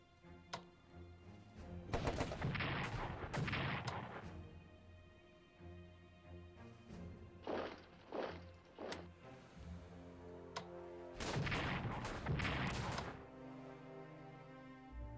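Artillery bombardment in the World War I strategy game Strategic Command, heavy booming barrages in several loud bursts separated by shorter thuds, with a low background hum between them.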